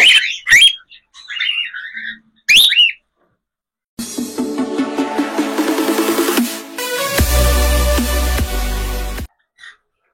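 Bright, close chirps and whistles of cockatiels in a cage come in a few short bursts, followed by several seconds of music.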